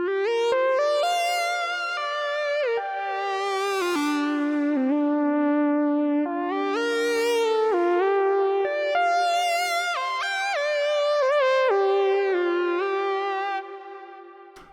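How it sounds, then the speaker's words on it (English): Rob Papen B.I.T synthesizer patch drenched in reverb, with sustained harmonic chords that shift and swell in repeated sweeping waves, loud and alone for the whole stretch before trailing off at the end. "So a reverb which sounds like this, you don't get from the Andromeda."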